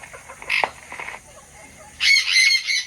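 An imported US Janssen Bold Ruler gamefowl rooster crows loudly and close in a single bright, sustained call near the end, preceded by softer clucks and faint background chatter.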